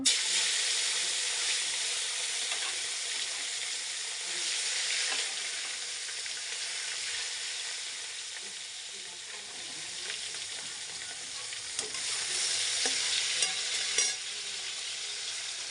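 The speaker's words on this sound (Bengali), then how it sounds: "তেলটা গরম হয়ে গেছে মাছ ভাজাগুলো দিয়ে দিব" Hot oil sizzles and crackles steadily as rohu fish pieces fry, a loud continuous hiss with occasional pops and stirring sounds, no talking.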